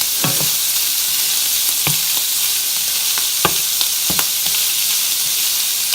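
Sausage browns in a single pan, a loud continuous sizzle broken by the sharp scrape of stirring, with no voices.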